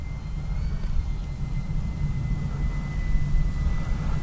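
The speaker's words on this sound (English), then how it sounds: "Actually, for my first landing of the day with this plane." An E-flite Beechcraft D-18 RC plane comes in to land, giving a steady, continuous motor drone with a thin high whine, fairly close and unbroken, with no talk over it.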